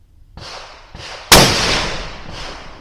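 A rifle shot fired with .308 ammunition at a 100-yard range, one sharp loud crack with a long fading rolling echo, following two fainter earlier reports.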